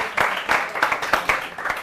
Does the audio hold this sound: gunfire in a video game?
no